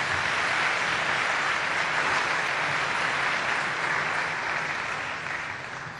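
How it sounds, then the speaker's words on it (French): An audience of scholarship students bursts into dense, sustained applause that fills the space loudly and evenly, then eases slightly toward the end, with no talking over it. "Applaudissez d'abord très fort."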